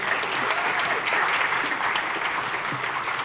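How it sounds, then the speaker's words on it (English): A crowd applauds panelists after a Hawaii food and blue economy panel discussion, sustained dense clapping at steady volume filling the room throughout. "give our panelists one more round of applause?"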